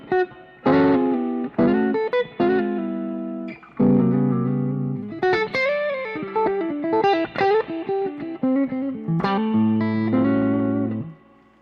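Electric guitar played through a valve pedal set to drive harder, with short melodic phrases and held notes carrying mild breakup and a slightly gritty edge, loud and close with no talking.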